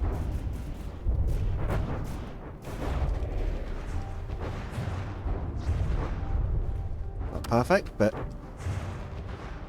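Deep booming salvos from a warship's main guns in the From the Depths game, repeated heavy blasts and rumble throughout with a clustered burst of fire near the end, while someone talks over them.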